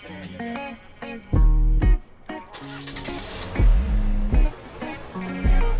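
Chevrolet Colorado ZR2 truck with a high-output 4-cylinder engine making over 300 horsepower, running and revving in bursts with strong low rumbles, heard up close alongside other engine noise.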